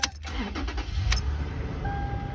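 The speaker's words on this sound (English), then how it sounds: "Take the key back out, then you're gonna put the key back in, start the vehicle," Toyota 4Runner, a fifth-generation model, starting with the key: a brief cranking burst settles into a low, steady engine idle heard up close, with a faint chime tone near the end and no talking.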